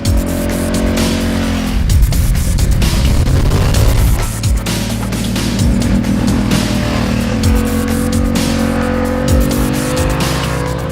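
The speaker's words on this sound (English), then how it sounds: "now it's time to ride the bike." A self-balancing motorcycle's engine roars up close, revving and shifting pitch as it accelerates and eases off, loud and continuous with no talking.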